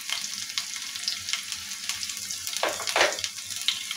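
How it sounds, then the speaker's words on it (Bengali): Onions with panch phoron frying in a pan for dal with papaya, a steady close sizzle with brief louder bursts of crackle as the pan is stirred, no voices. "এইসব কিছু এখন আমি ভালোভাবে ভেজে নিই"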